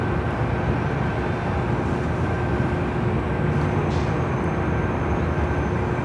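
United Airlines Boeing 737 MAX airliner arriving at LAX on the north side from SFO, a continuous low rumbling roar with a faint steady whine, even in loudness throughout and without talking.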